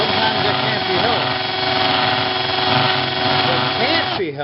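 An electric drill bores into a glass bottle with a steady, continuous motor whine and grinding that holds for about four seconds before winding down at the end.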